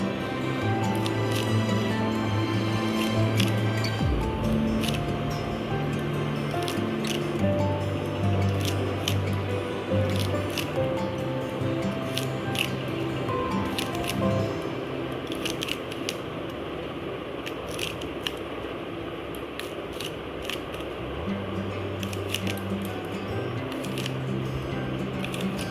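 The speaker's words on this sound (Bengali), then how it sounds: "এবারে এরকম ছোট ছোট টুকরো করে শাপলাগুলোকে কেটে নেব" Water lily stems are chopped into small pieces for a Bengali shapla posto recipe, with repeated crisp, wet cutting squishes over soft background music.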